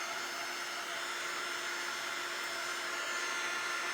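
A hot-air dryer blows steadily on a rolling pin freshly painted blue, a loud, constant whooshing whir with no pauses or talk.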